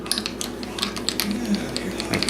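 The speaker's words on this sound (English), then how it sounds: "So maybe for this particular video we'll just use a string winder." Guitar string winder cranking a tuning peg to loosen the strings on a floating tremolo guitar, giving a quick series of soft, close ratcheting clicks in an irregular run.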